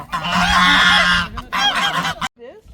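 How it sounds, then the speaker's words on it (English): Loud, nasal Sebastopol geese honk close by beside a swimming pool in a long harsh burst, then a shorter honking call, ending in a brief quiet gap with faint calls. "the big white birds that are there by the swimming pool, those are Sebastopol geese"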